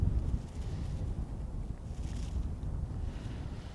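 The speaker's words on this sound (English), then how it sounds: "you can see from the windsock just how breezy it is" Strong, gusty wind roars across an open hilltop mound outdoors, a loud continuous rumble buffeting the microphone with no speech.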